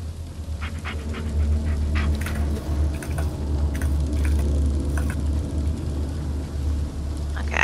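Dog panting in the Blair Witch video game on PS5, a steady soft rhythmic breathing close by over a low droning background, with faint pattering and small clicks.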